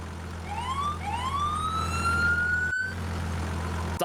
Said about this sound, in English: Sirens. We've all been waiting for sirens.